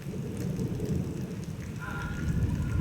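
Rain falls steadily outside during a storm, a faint, even patter joined by a low, rumbling roll of thunder underneath.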